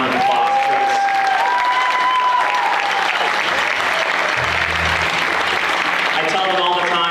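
Sustained, dense audience applause at a school fall band concert, loud and continuous throughout, with some crowd noise and faint voices mixed in.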